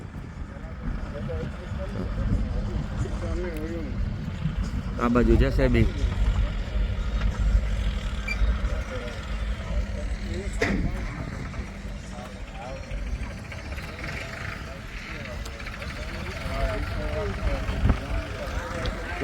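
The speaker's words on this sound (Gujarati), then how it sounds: "અહીં ધબડાટી ચાલુ હે લોડર ને લેજર ને ટ્રેક્ટર ને માણસુર" Loaders, tractors and other vehicles rumble steadily at a village farm, a constant low engine drone under loud, near conversation, with occasional clatter.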